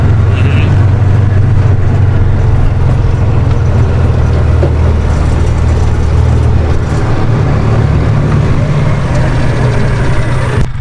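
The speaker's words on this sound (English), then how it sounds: "I'm going to actually turn off this, turn off the ATV or the machine right fast." A running ATV engine on rural farmland holds a steady, loud low rumble from start to finish, with faint background noise layered over it.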